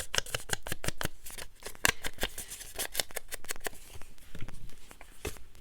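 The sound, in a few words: pieces of paper being handled and placed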